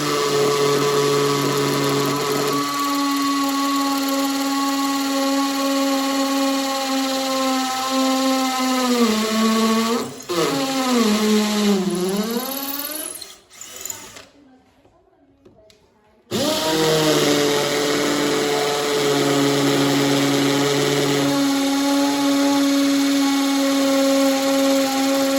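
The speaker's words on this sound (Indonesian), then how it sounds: "Dan sekarang saya akan coba di dinding tembok menggunakan mata bor ukuran diameter 6 mm." A Makita DF331D cordless drill in hammer mode, with a 6 mm bit, whines loudly and steadily up close while drilling into a masonry wall. It slows, cuts out briefly, then spins back up to full speed.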